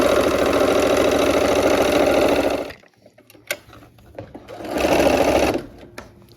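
A sewing machine stitches the side borders of a quilt in two steady runs, a long continuous whir at the start, a pause with light handling noise, then a shorter second burst, close and loud.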